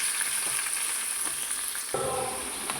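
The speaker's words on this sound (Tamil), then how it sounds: "கருவேப்பிலை போட்டு நல்லா அலசி வச்ச சிக்கனை போட்டுக்கலாம்." Chicken with curry leaves frying in hot oil in a kadai, a loud continuous sizzle holding steady throughout, with a slight shift in texture near the end as the pieces settle.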